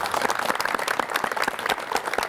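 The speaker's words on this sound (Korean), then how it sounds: "박수로 맞이해 주십시오." A studio audience claps to welcome a guest on a 1986 Korean broadcast talk show, a steady, dense patter of many hands with no voices over it.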